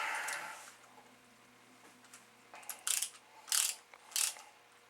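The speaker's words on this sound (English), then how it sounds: "I'll take my ratchet screwdriver and very carefully go at these screws" Ratchet screwdriver working at the screws of a Commodore 8250 disk drive: a few crisp clicking ratchet bursts near the end, close but fairly quiet, after a near-silent pause.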